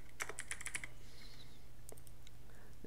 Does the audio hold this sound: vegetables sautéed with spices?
no